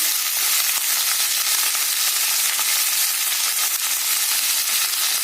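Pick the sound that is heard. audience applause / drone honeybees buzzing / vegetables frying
vegetables frying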